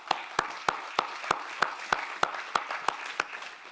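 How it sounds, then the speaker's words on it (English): Sparse, slow clapping from a small audience at a science diplomacy forum panel, roughly a dozen distinct evenly spaced claps ringing out clearly in a quiet room. "A round of applause for all of you."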